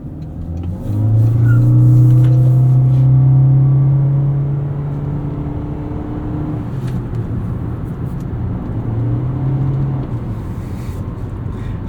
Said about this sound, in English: This is just such a nice car to drive with Toyota's planetary gear set CVT hybrid.